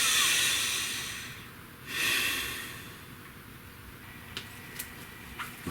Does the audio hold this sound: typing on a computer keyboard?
no